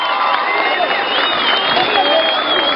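A large concert crowd applauding and cheering steadily, a dense wash of clapping and voices that stays loud and even throughout.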